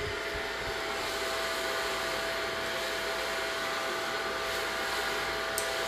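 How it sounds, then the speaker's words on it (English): A hair dryer blows steadily at close range while hair is dried over a medium round brush, giving a constant loud whooshing hum with a faint tonal whine and no pauses. "Now start blow drying with a medium brush."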